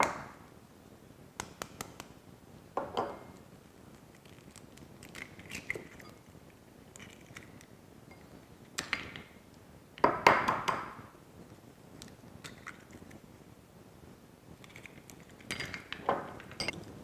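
Eggs being added to crepe batter and whisked in a bowl, with quiet, scattered clinks and soft sloshing and one louder splashy burst, mostly faint and with no talk.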